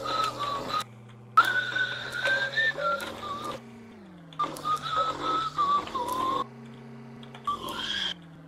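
Someone whistles a wavering melody in several phrases, separated by short pauses, over a steady droning machine hum that shifts in pitch.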